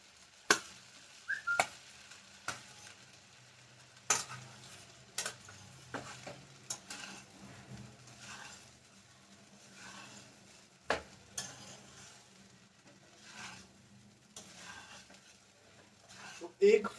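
Half-boiled rice coated in ghee is stirred into a pan for egg fried rice, with sharp, irregular scrapes and clinks of the spatula against the pan over a faint sizzle, while a voice talks at times.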